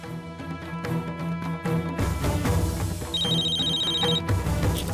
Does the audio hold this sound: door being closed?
no